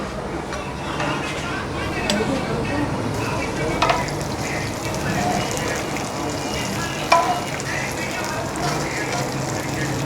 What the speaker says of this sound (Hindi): इधर यहाँ पे हमने लिया आधा किलो घी और इसमें 2 से 3 छोटी प्याज डाल के हमने इसको इस तरह से ब्राउन कर लेना